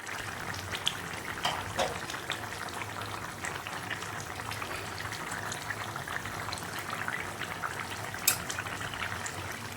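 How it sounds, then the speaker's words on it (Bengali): Fish and eggplant curry simmering in a pot, a steady close bubbling burble with occasional louder pops, continuous throughout and without speech. "মাছ আর বেগুন দিয়েও ঝোলটা ভালো করে ফুটিয়ে নেব"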